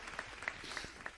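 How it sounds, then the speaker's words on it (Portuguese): A church congregation claps for about a second, a steady patter of many hands with a few sharper slaps, moderately loud and with no voices over it. "Você pode aplaudir ao Senhor."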